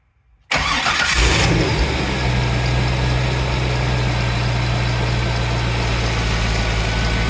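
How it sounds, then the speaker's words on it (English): A Corvette V8 with a newly installed oil cooler kit cranks briefly after silence, catches with a loud rev burst, then settles into a steady, rumbling idle close by. "We're gonna start the engine now."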